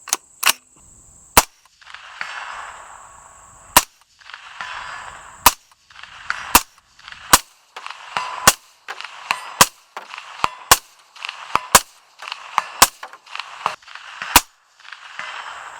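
Sharp 5.56 rifle shots crack one at a time at an outdoor shooting range, about fifteen loud, close reports coming at uneven intervals with brief quiet gaps between them.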